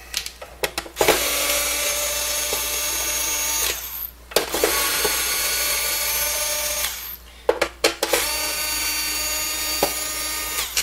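An electric screwdriver backs Phillips screws out of a roller controller in three sustained whirring bursts, each a few seconds long, separated by brief clicks and pauses.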